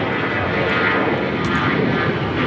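Jet airliner engines roar at LAX during takeoff, a steady, loud broadband rumble with no gaps, filling the short stretch without any talk over it.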